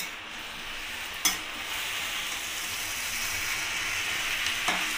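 Greens being stirred with a bhetki fish head in a covered pan over a low gas flame, a soft steady sizzle and hiss with two brief scraping knocks of the spoon.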